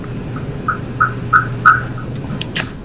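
An alarm beeps in a steady series of short, clear tones about every third of a second, loud and close, then a brief sharper chirp near the end.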